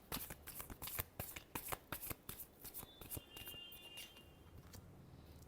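Tarot cards are shuffled in a quick series of crisp riffling bursts, about a dozen sharp flicks at first, then a softer continuous rustle near the end, with no voices.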